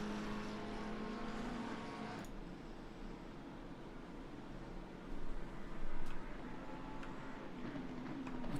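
GT3 race cars circling a track in the Assetto Corsa Competizione sprint series, a faint, steady engine drone with a low hum that swells briefly near the end, heard from a distance and without speech.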